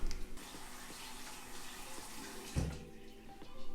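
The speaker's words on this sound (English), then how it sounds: "Just gonna wash my hands." Running tap water splashes into a sink while hands are washed, a soft steady rush with a brief louder splash partway through.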